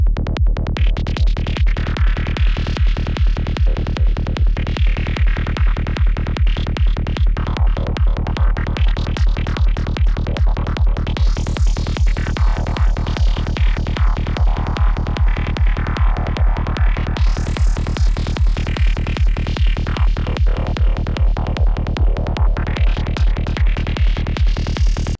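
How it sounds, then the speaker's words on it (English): Psytrance synth line passed through a rhythmizer and delay, a fast pulsing stream of gated notes over a driving repeated low pulse, with sweeping filter movement, continuous and loud. "in order to finish off a synth like this, we would add our delay"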